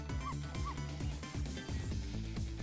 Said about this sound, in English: He literally just barked.